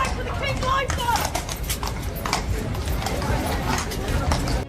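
Hooves of a Royal Guard horse clip-clopping on pavement, a quick irregular series of hard knocks amid outdoor crowd chatter and people talking nearby.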